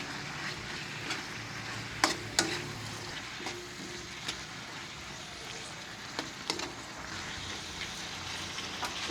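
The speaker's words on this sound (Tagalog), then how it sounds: "Ilagay na rin po natin yung ating carrots." Carrots go into a hot frying pan and sizzle steadily, with a few sharp scrapes and clacks of stirring cutting through the crackle.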